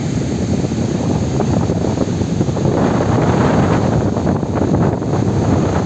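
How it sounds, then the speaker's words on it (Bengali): Sea waves wash onto Diveagar beach on the Konkan coast in a continuous loud rush, heavily buffeted by wind roaring across the microphone. "তো সমুদ্রের জলের ঢেউ দেখুন।"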